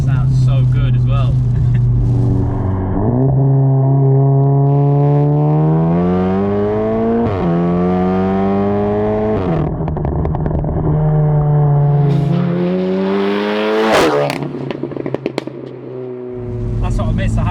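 A Stage 2+ Volkswagen Golf R with a loud, throaty custom exhaust revs repeatedly, rising and falling in pitch through several gear-like sweeps, close by, with a voice talking over it.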